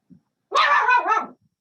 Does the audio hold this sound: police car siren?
no